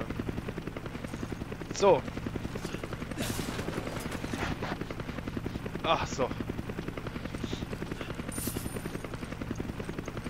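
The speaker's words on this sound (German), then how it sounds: "So, der Helikopter nervt mich gerade ein bisschen." A helicopter in the video game Resident Evil 5 thrums with a steady rotor chop throughout, joined by brief bursts of gunfire, while someone speaks a couple of short words over it.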